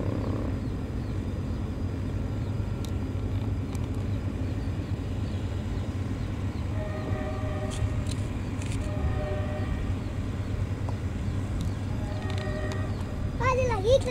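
A train hauled by three Chinese Dongfeng locomotives pulling rail wagons rumbles past near Jatiluhur, Purwakarta, as a steady low roar with tonal, horn-like notes partway through and faint voices nearby.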